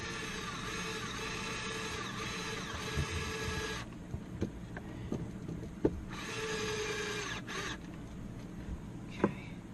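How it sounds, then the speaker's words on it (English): A power drill boring a pilot hole for boat motor mounts, two sustained whirring bursts with a pause between, close and fairly quiet, amid small knocks and handling clatter. "We're going to put in the pilot hole right about here."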